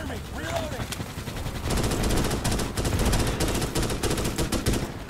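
Rapid automatic gunfire in the shooter game Starship Troopers: Extermination, dense bursts of shots that start after a quieter moment and keep rattling, with voices faintly underneath.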